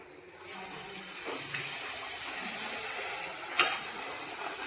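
Puri fries in hot oil in a pan, a steady bubbling hiss that runs throughout, with a couple of sharper splashes near the end.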